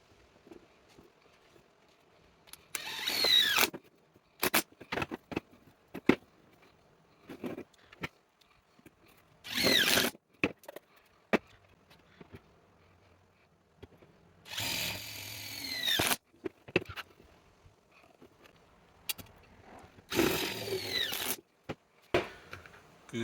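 A power drill drives self-tapping screws into a power supply case in four short, close whirring bursts separated by pauses, with small clicks and handling noises between them.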